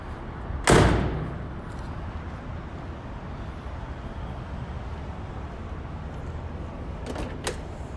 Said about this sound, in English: Open the door here.